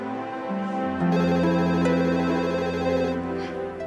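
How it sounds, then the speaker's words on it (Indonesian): A telephone rings in a home with a synthetic melodic tone, steady and fairly loud throughout, with no talk over it. "Ada telepon."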